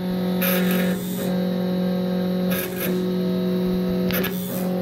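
A K40 Chinese CO2 laser cutter and engraver running, giving a steady electrical hum and whine with recurring bursts of hissy noise about every two seconds, loud and close, with no voices.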